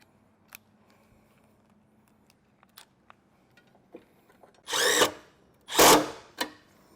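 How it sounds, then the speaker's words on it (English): A power drill drives a screw into metal while a ring terminal for a Jeep Wrangler trailer wiring kit is fastened, giving two loud whirring bursts near the end after a few faint clicks and taps. "once that screw goes in, it's going to bite into that metal."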